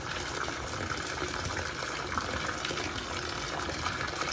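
Sun laundry detergent pours from a bottle in a steady, gushing liquid stream that holds at a constant moderate level throughout, with no voices.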